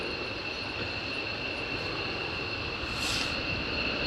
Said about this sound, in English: F-16s going to RAF Lossiemouth before going to Iceland for some shopping